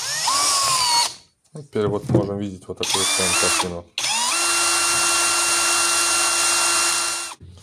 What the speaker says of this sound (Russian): Берем шуруповерт. Вставляем.